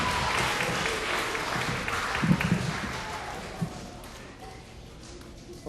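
Audience applause for the teachers at a school drum and dance performance rolls as a steady wash of clapping that slowly fades, with a few louder claps partway through.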